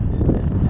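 Strong wind buffeting a microphone on the open deck of a San Francisco Bay ferry, a loud, gusty low roar with uneven rumbling pulses over a brief moment, with no talking.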